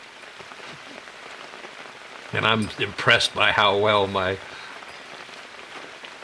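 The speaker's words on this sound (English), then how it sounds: "it's starting to rain a little harder" Rain falls harder on an outdoor path, a steady fine patter continuing throughout, while someone talks briefly in the middle close to the microphone.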